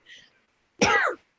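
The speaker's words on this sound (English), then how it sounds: "You want to mute your coughs?" A single cough bursts out up close and alone, following a brief faint sound just before it.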